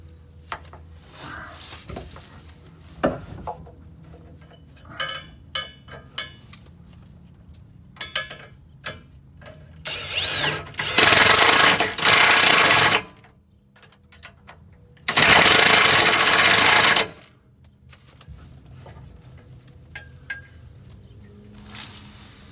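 A power drill boring into the underside of a school bus during a skoolie water tank install, with scattered clanks and handling noise followed by two loud, sustained bursts of drilling a few seconds each.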